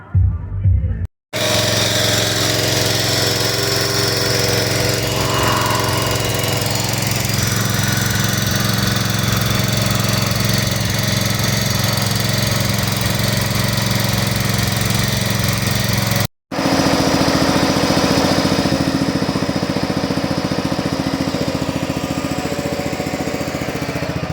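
A John Deere log splitter's small engine runs steadily and loudly at close range, a continuous mechanical drone that cuts out briefly near the start and again about two-thirds through before resuming.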